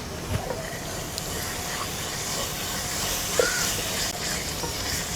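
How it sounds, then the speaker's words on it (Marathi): Gavran chicken masala frying in oil over medium heat, Maharashtrian style, giving a steady broadband sizzle and hiss throughout with an occasional soft stir or scrape. "याला छान तेल सुटेपर्यंत छान फ्राय करायचं"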